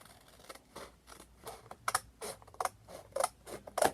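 Scissors snip paper repeatedly in short, crisp bursts, an uneven series of close cutting sounds with small pauses between.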